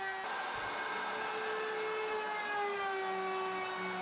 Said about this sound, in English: Then plug in the router and trim the edge.